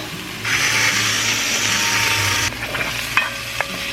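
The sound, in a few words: vegetables sautéing with pepper and salt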